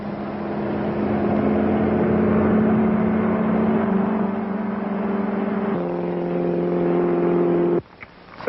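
A car engine runs steadily with a low harmonic drone, shifting pitch partway through as it pulls away, then cuts off abruptly near the end.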